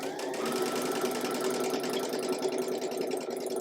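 A sewing machine stitches quilt squares for a tulip block, its steady, close mechanical whir running evenly throughout.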